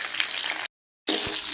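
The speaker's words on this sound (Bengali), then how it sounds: "বেগুন একটু হালকা লাল করে ভেজে নিতে হবে" Eggplant pieces frying in a pan of hot oil with bay leaf and slit green chilli give off a steady, close sizzle that cuts out into brief silence midway, then resumes.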